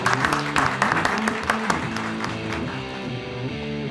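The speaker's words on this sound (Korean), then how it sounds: "여러분들 박수로 다시 한번 2차전 가도록 하겠습니다." Studio audience applause at a golf putting contest, a steady dense patter of many hands, moderately loud, with background music tones running beneath and a few voices mixed in.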